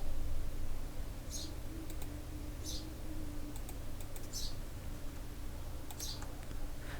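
Computer keyboard keys tapped in a few short, scattered bursts over a constant low background hum, with a couple of clicks and no voices.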